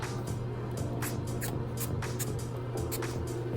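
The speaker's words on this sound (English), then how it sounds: "I'm gonna spray the cleanser on there" Repeated short hissing sprays of makeup-brush cleanser from a spray bottle, several quick bursts in a row over a constant low background rumble.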